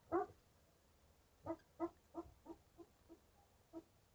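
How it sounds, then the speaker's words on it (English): A sleeping dog gives soft, muffled woofs while dreaming: one at the start, then a loose series of about seven quiet barks, close by in an otherwise still room. "She's barking in her sleep"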